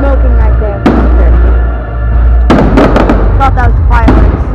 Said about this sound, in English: Thought that was fireworks.